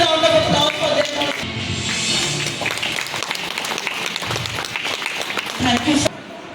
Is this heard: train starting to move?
no